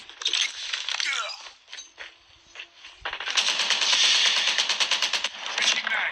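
Rapid automatic gunfire in a shooter video game comes in dense, crackling bursts, with a heavy sustained volley near the end, while a player talks excitedly.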